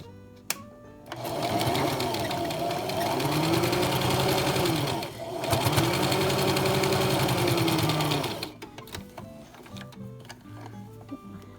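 A sewing machine stitches a quilt block in two sustained whirring runs with a brief pause between them, close and loud, followed by quieter clicks and handling noises.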